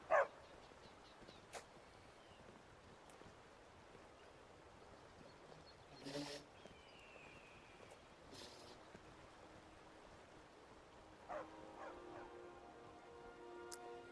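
A dog in the Skyrim video game gives a few faint, scattered barks and yips spread across a quiet stretch with a soft flowing background, each bark brief and fairly distant.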